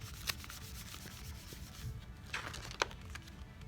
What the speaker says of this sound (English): If you rub the two colors together really hard,